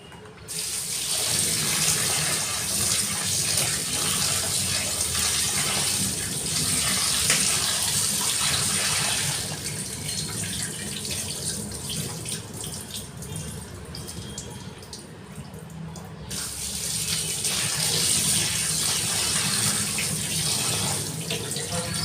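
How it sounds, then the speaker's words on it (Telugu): Running tap water pours steadily while raw chicken is washed under it, a continuous close splashing gush that dips briefly in the middle before rising again. "ఈ చికెన్ని బాగా వాష్ చేసుకుందామండి"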